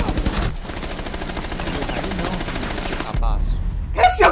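Rapid automatic gunfire in Rainbow Six Siege, a dense close burst of evenly spaced shots lasting a few seconds, followed by a heavier impact and a voice speaking briefly at the end.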